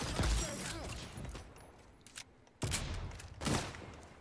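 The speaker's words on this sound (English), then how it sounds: "Ooh, they're sniping." Gunfire in the XDefiant multiplayer shooter, a burst of loud cracking shots at the start, then a quieter lull before more sharp reports and rattling bursts, close and punchy.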